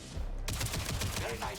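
Gunshots from the science-fiction shooter Jump Ship: after a brief quiet moment, a dense run of sharp, close shots rings out over a low rumbling background and keeps going to the end.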